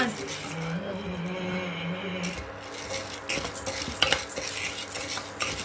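Spices including chana dal are dry-roasted for homemade sambar powder, stirred continuously in a pan with a gritty scraping rhythm and faint sizzle, close and steady, with someone talking over it.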